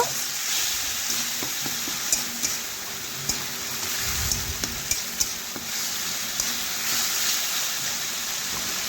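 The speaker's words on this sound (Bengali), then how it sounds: "মশলার সাথে ভালোভাবে ভেজে নেব, এইভাবে নাড়াচাড়া করে" Chopped tomatoes fry with a ground spice paste in a pan for a Bengali rohu fish curry, a constant sizzle broken by repeated scraping and clinking stirs, close and steady, with no voices.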